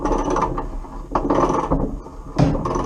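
A socket wrench ratchets as a bolt is half undone on a 1969 classic Mini during bulkhead removal, with repeated loud clicking bursts of metal mechanism close by and no talk.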